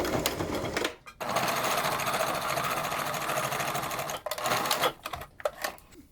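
A sewing machine stitches a fabric face mask in steady, rapid, close bursts, running continuously for a few seconds, stopping briefly, then starting again in shorter runs.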